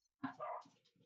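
Puppies give a quick burst of soft barks and whimpers, close and fairly quiet, with brief pauses between the yips.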